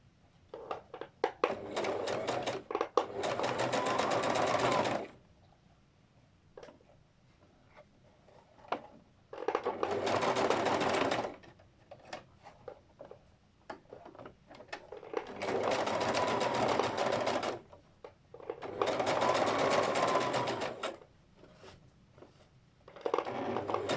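A sewing machine stitches a folded-in petticoat hem in four bursts of steady running, each a few seconds long, with short pauses between them and no talking.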